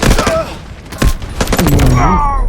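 An LMG machine gun in the Delta Force game fires in short, loud, muffled bursts with thumping impacts, mixed with an excited voice talking over it at close range.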